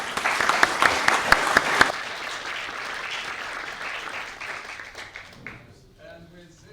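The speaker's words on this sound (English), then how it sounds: "But now please join me the round of applause for the speakers" Applause from a conference audience for panel speakers, with a few sharp individual claps at first, then steady dense clapping that thins and fades out by the end.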